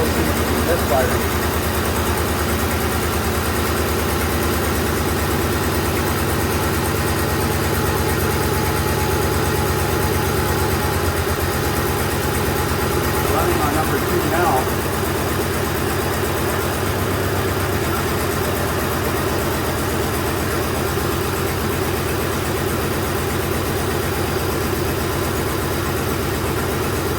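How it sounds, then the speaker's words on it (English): A 2007 Ford F150 with the 4.6 engine idles steadily with a misfire and an exhaust leak, a continuous loud low rumble filling the whole stretch with slight unevenness and no talk over it. "Still seems to be misfiring."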